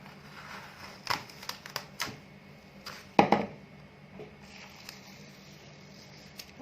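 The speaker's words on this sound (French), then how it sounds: "je vais commencer à enlever tout le scotch et le papier" Tape and paper are peeled off a stenciled t-shirt in a quiet room, giving a run of close, sharp ripping snaps and crinkles at irregular intervals, with one louder tearing burst in the middle.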